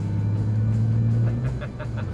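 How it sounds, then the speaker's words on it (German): A car engine idles and revs at the Shell Technology Centre during a cold-start motor oil test at 0 degrees, a steady low rumble with a slight rise in pitch that then dips. "Matthias, ich glaube, du willst ein bisschen Gas geben, Mann, ne?"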